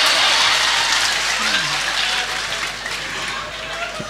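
A crowd at a lively religious lecture by KH Anwar Zahid bursts into dense, rain-like applause that stays steady and slowly eases, with a faint voice underneath.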